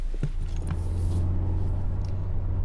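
A Mazda MX-5 pulls away with a loud, steady low engine drone and rumble close by, and a few faint clicks at the start.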